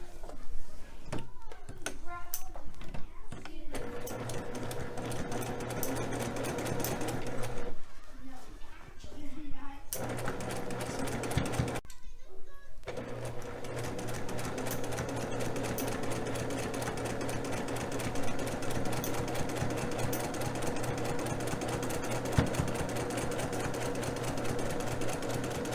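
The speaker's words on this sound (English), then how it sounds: "we're going to sew the white strip on the other side" Sewing machine stitching a white strip onto a gray-and-white quilt block, running steadily in long continuous bursts with brief pauses between seams, while a person talks over it.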